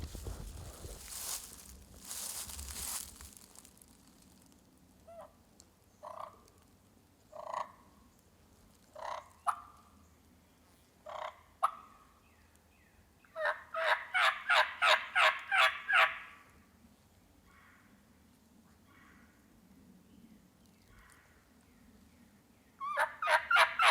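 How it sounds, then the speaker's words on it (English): Wild turkeys gobble in Kentucky hardwoods, with distant faint gobbles and a loud close burst of rapid gobbling mid-clip, mixed with scattered clucks and calls and a rustling noise at the start. "That one just gobbled again."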